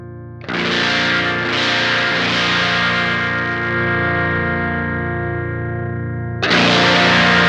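Electric guitar through an Electric Love Aquatone pedal with its volume turned up, a loud chord ringing out and slowly decaying for several seconds before a second strong strum, thick and driven, with no voices.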